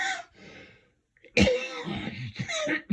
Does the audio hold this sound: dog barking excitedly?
no